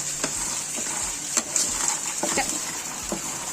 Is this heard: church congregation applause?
no